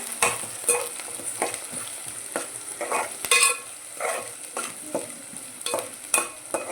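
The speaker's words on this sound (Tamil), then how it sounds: "வெங்காயம் இப்படி தாளிச்சிக்கலாம்." Onions sputter and crackle in hot oil as a spatula repeatedly scrapes and stirs the pan in a busy, uneven rhythm, loud and close throughout.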